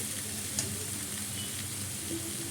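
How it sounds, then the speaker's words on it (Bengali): Steady crackling sizzle of mango and panch phoron frying in hot mustard oil in a kadai, close and continuous, with a faint clink partway through. "কড়াইতে সর্ষের তেল দিয়ে পাঁচফোড়ন দিয়ে আমটা ছেড়ে দিয়েছি"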